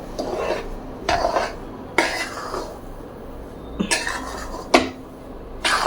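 A spoon stirs besan ladoo mixture made with ghee in a pan, giving repeated scraping strokes about a second apart against a quiet background, with no talk.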